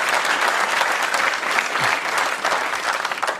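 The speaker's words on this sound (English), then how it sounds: "That got an applause" Audience at a Dave Chappelle stand-up comedy show breaks into loud, sustained applause with dense clapping and some cheering, steady for the whole stretch.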